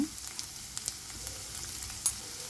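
Onion, garlic, ginger, green chilli and cumin frying in oil: a faint, steady sizzle with scattered soft crackles and a light clink near the end.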